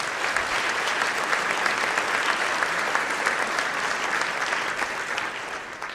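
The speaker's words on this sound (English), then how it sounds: "they deserve a round of applause too" An audience applauds outgoing vice presidents at a June 2013 presidential speech, with dense, steady clapping that stays loud and even for the whole stretch before easing slightly at the very end.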